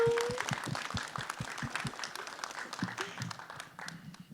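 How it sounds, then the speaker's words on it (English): Comic convention panel audience gives a round of applause, crowded clapping that starts strong and gradually tapers off over a few seconds, with faint voices underneath. "Big round of applause for that."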